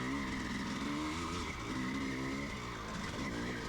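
A 1979 Husqvarna CR390 dirt bike runs downhill through loose sand, its engine loud and close with a steady, gritty drone and shifting pitch as the tires slide.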